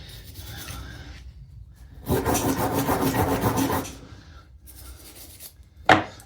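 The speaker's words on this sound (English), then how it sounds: "I'm using a softer wire brush to get in the little nooks and crannies" A soft wire brush scrubs a Gillette safety razor in short rasping bursts, loudest for a couple of seconds in the middle, with quieter scratchy strokes around it and no talking.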